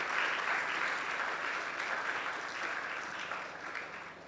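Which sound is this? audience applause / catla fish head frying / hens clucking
audience applause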